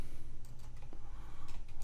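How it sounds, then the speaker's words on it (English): Fingers type on a computer keyboard, a run of quick, soft clicks and taps with brief pauses, faint and alone in a quiet room. "having a hard time typing today"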